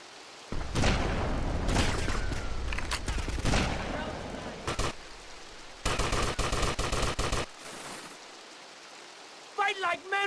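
Gunfire exchanged with a sniper in GTA: Vice City, sounding as loud bursts of rapid shots and booms, with a tight volley of cracks near the middle and dense noisy blasts, then brief tonal chirps near the end.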